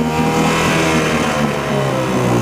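A vehicle engine, apparently out of gear in neutral after struggling in gear, runs steadily and loudly with a continuous low rumble throughout, no voices over it.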